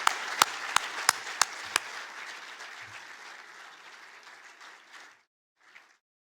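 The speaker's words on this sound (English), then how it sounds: "Let's give a round of applause for this esteemed group." Audience applause at a business hall of fame induction ceremony, opening with several sharp claps over a dense wash of clapping that thins and fades out by about five seconds, with a brief faint patter afterward.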